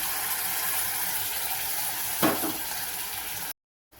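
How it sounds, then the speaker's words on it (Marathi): A coconut-onion masala paste sizzles steadily in a pan. About two-thirds of the way through, a single scrape of stirring cuts in, and the sound stops abruptly near the end. There is no speech. "मसाला पण बघा छान असा परतून घ्यायचा, म्हणजे खोबऱ्याचं वाटण।"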